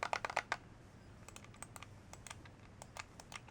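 Rapid, crisp plastic clicks from the two shoulder buttons on a Retron 5 controller, fired in quick bursts close up against a quiet background.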